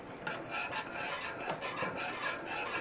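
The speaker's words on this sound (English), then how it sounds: "Give it a really, really good whisk now." A whisk scraping and rasping briskly against a pot of corn cob jelly, a rapid rhythmic rubbing that continues steadily without talk.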